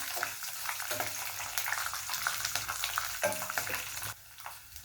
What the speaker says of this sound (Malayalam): ഇനി 3 പച്ചമുളക് ഞാൻ ഇങ്ങനെ അരിഞ്ഞു വെച്ചിട്ടുണ്ട്, അതിട്ട് കൊടുക്കാം. കുറച്ച് കറിവേപ്പ് നല്ലോണം മിക്സ് ചെയ്യുക.